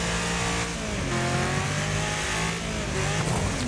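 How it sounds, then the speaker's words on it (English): A race car in the Wreckfest racing game powers out of a handbrake turn and accelerates uphill, its engine a loud, continuous rising roar with shifting pitch and a brief tire squeal. "Handbrake, power down up the hill."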